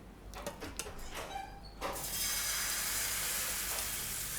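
Tomato besan batter hitting a hot oiled tawa, a few clicks and scrapes of a ladle and then a sudden broad hiss that swells and holds steady, close by.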